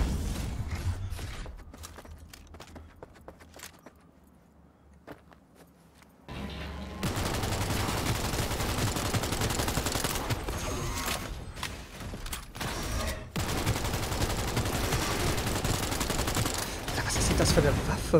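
Sustained bursts of gunfire from a weapon in Cyberpunk 2077 start after a quieter, sparse stretch and then keep going, loud and dense, with a few sharper reports toward the end.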